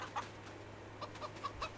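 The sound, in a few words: chickens clucking in Farming Simulator 25 video game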